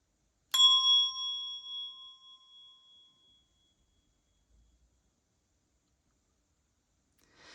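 A single sharp strike on a Montessori handbell rings out clearly, its bright metallic tone fading over about three seconds, then near silence with a faint thump at the very end.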